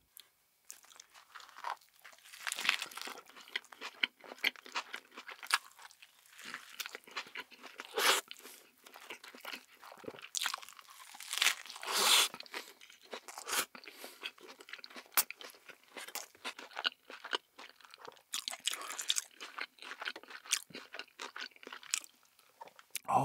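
Close, crisp crunching and wet chewing of a thick hamburger with a double Korean beef patty, irregular bites and mastication continuing steadily throughout, with no talking.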